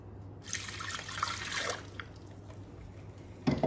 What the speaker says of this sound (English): So we're going to put 170 mils of water into the bowl.